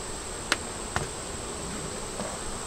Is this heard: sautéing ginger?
no